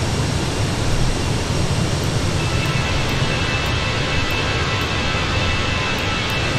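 Airbus A320 climbing out after departure in Microsoft Flight Simulator, a loud, steady broadband jet engine roar with no breaks and no talk.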